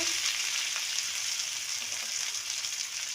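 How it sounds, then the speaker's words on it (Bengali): Steady, dense sizzling of potatoes frying in hot oil, close and continuous throughout with no talking. "আলুগুলো ভাজা হয়ে গেছে"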